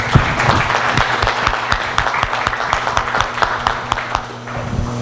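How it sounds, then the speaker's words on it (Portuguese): An audience at an innovation and anti-piracy seminar applauds, a dense steady wash of many hands clapping that carries on loudly throughout with no break. "Eu gostaria de uma salva de palmas a todos aqui."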